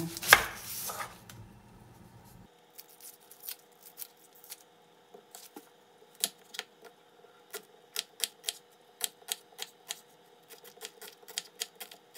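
Onion being chopped on a board, a quick series of sharp knife taps at an uneven rhythm, close and clear in a quiet room after a brief louder rustle at the start.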